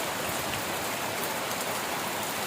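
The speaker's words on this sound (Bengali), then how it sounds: "মানে বৃষ্টি শুরু হয়ে গেছে, আমার জামা ভিজে যাচ্ছে।" Rain pours steadily and densely onto surfaces, a constant loud hiss of drops close around with no voices.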